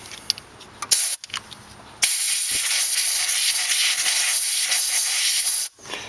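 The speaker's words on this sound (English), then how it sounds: "Take compressed air," Compressed air blasts into the spark plug holes of a Dodge Caravan or Town & Country engine, first in a few short hissing bursts, then as one sustained loud hiss lasting several seconds before stopping.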